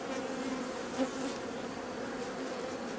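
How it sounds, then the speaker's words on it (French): A swarm of honey bees at a hive hums in a steady, dense buzz, faint but continuous, with no voices. "c'est un essaim ça"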